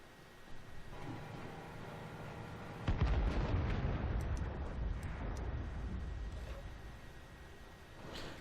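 A tank cannon firing in World of Tanks, one loud booming blast about three seconds in that rolls out into a long fading rumble over steady engine and battle background noise.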